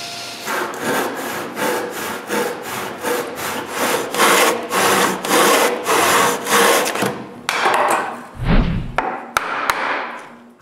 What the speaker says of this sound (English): I make the tenon with the table saw and a handsaw.